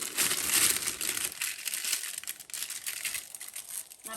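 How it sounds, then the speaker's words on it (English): Thin plastic piping bags crinkle and rustle steadily up close as one is slid inside the other, loudest in the first second and continuing as softer crackles without talk. "Now place your first piping bag into the other. It will easily slide in."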